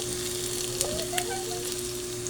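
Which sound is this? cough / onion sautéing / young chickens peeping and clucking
onion sautéing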